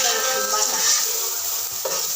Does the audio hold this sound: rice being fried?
yes